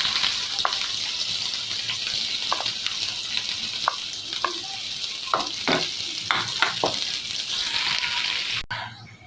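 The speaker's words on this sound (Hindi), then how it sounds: "2 से 3 खाने के चम्मच कुकिंग ऑयल आपने लेना है। इसके अंदर आपने प्याज ऐड कर लेना है।" Onions fry in cooking oil with a continuous bright sizzle, while scattered clicks of a utensil stirring the pan break through over about nine seconds.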